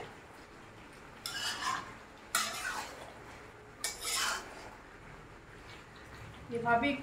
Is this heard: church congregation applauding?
no